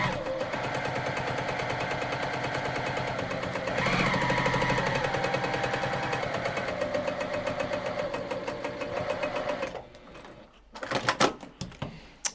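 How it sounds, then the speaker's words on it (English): A sewing machine stitching a quarter-inch seam through quilting fabric runs in a fast, even mechanical chatter for about ten seconds, then stops, followed by a few soft handling knocks. "we're just going to sew another 1/4 inch line"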